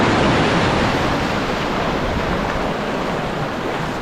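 Ocean waves wash continuously onto the rocky end of Hundred Steps Beach in Trinidad, a steady broadband roar of surf without pause, close and fairly loud, with no voices.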